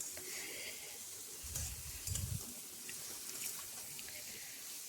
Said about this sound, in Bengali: তো মাংসটা দিয়ে আমি কষিয়ে নিচ্ছি এখানে